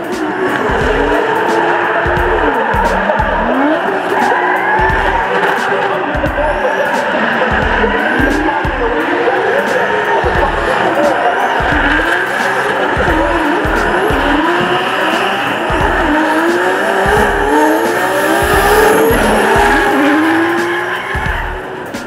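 Two high-horsepower drift cars, a 2JZ-powered E46 BMW and an RB34 Nissan GTR, battle at a D1NZ competition, their engines roaring and bouncing off the rev limiter over continuous loud tyre squeal, close and sustained throughout.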